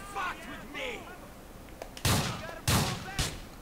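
Shotgun blasts from the video game GTA IV, two or three heavy booming shots in quick succession, loud and close, with someone talking over the gameplay.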